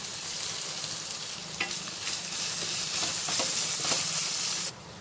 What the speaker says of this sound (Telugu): ఈ అల్లం వెల్లుల్లి పేస్ట్ పచ్చివాసన పోయే వరకు ఫ్రై చేసుకోవాలి